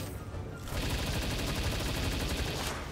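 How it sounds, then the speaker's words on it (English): A player's gun fires in Palworld as a rapid, continuous burst of shots. It comes loud and sustained over a low rumble, starts after a brief lead-in and cuts off near the end. "if you want me to use my gun, I'll use my gun"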